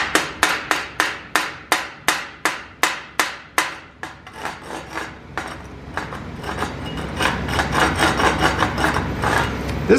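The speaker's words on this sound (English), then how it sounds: "we're gonna have to hit these 2 with the brush" A wire brush scrubs slag off 6013 welds made on a Harbor Freight Vulcan Outlaw 195 welder/generator. About a dozen quick, sharp, evenly spaced strokes come first, then a steady, louder raspy scrubbing, close up with no talk.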